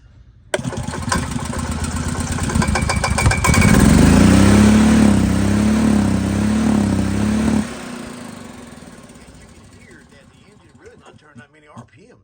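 A gas golf cart with a loss of power cranks and fires, its engine climbing into a loud, buzzy rev with a wavering pitch for several seconds, then abruptly cutting off and leaving a fading rumble.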